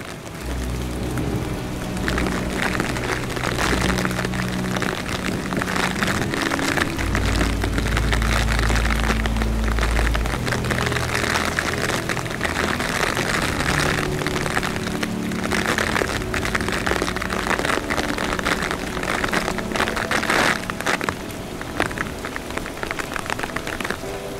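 Heavy rain pours steadily on the ground and cover during a driven big-game hunt in Abenójar, a dense continuous patter with a low rumbling undertone throughout.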